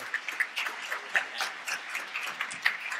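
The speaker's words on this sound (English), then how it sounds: "I'd like to just give a round of applause to, to Gordon Price" An audience at a panel discussion applauds for Gordon Price, a short burst of scattered hand clapping from a modest crowd, fairly sparse and close.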